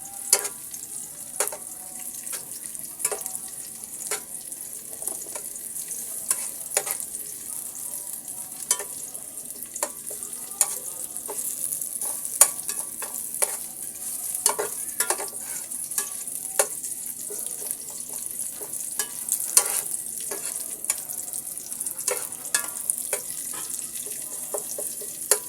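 Two dried chilies frying for beef rezala, a soft, constant high sizzle with irregular clicks and taps of stirring scattered throughout, close and fairly quiet.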